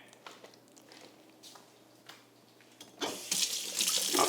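Freshly made juice is poured into a container, starting as faint scattered drips and splashes, then becoming a loud, steady liquid stream for the final second and a half, with no talk.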